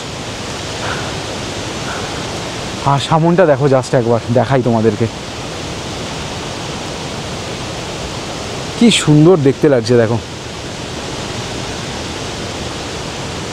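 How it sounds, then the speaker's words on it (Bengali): The Sisney river in Rongli, East Sikkim rushes in a steady, broad roar of flowing water, and someone speaks over it in two short bursts. "সারাক্ষণ এই নদীর শব্দ, বয়ে চলা জলের শব্দ"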